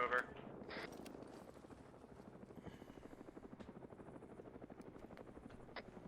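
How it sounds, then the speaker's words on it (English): Helicopter rotor in the Arma 3 military combat game circling overhead, a steady rapid blade chop that stays loud and continuous, with voices talking over it. "Helo's coming back around."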